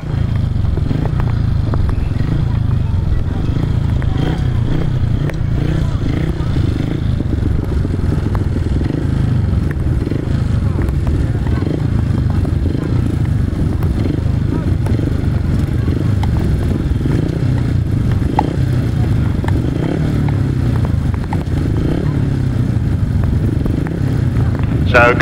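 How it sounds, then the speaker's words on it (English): 500cc sidecar motorcycles roar steadily at a grasstrack race, a loud continuous engine drone with some clatter, heard under an announcer's voice throughout. "So coming to line then for race number 1, 500 sidecars."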